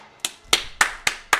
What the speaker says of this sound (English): Applause all around to the writers, to the actors, to the special effects.